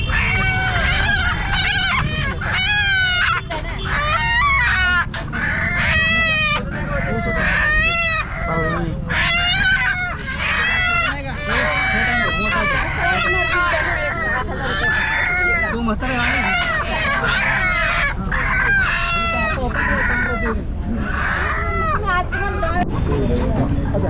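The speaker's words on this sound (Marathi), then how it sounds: "कोंबड्या काढायचं काम चालू आहे आणि चांगल्या क्वालिटीच्या कोंबड्या आहेत" At a large goat and sheep market in Chakan, Maharashtra, many chickens cluck and roosters crow loudly and continuously, with a busy crowd chattering throughout.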